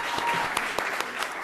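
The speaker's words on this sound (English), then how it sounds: "How about a round of applause for Diego up here doing it?" Audience at a state senate candidate event breaking into applause, a short burst of loud, close clapping with many overlapping hands.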